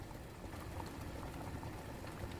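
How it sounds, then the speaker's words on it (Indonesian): Shallots hiss and sizzle in hot oil in a wok, a steady, dense frying sound that keeps going without a break. "Kita tumis bawang merahnya,"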